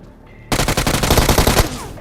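UMP submachine gun fire in BGMI (PUBG Mobile), one loud sustained burst of rapid, evenly spaced shots lasting about a second, close and alone.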